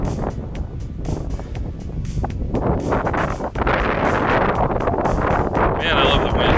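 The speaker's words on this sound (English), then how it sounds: "Man, I love the wind." Strong wind roars across a sand dune near Lake Michigan, buffeting the microphone with loud, continuous rumbling gusts while a person speaks over it.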